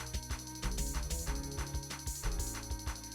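Sewing machine stitching a sweatshirt cuff, a quiet mechanical clatter of rapid rhythmic needle strokes with short bursts and pauses, close and alone.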